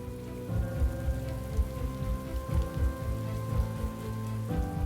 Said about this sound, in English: Also, it's still raining.